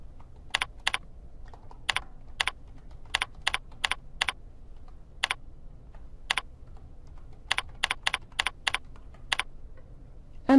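Rapid bursts of typing on a computer keyboard, sharp clicky keystrokes in irregular clusters against a quiet room background, with no talking.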